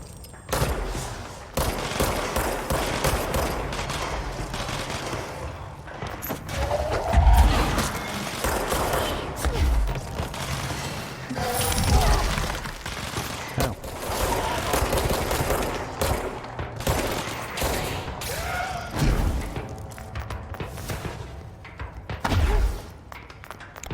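Heavy, near-continuous gunfire from the game Control rattles through long stretches, with rapid shots, thumping impacts and mechanical clanks layered throughout, loud and dense with little pause.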